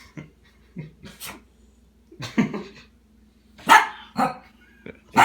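A dachshund gives a string of short, sharp yaps at uneven intervals, close by, with brief quiet gaps between the barks.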